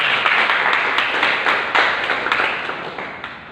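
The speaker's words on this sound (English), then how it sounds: "give a round of applause." A round of applause at a Universitas Indonesia Toastmasters club meeting after an officer's oath, with distinct nearby claps over a steady patter that slowly fades toward the end.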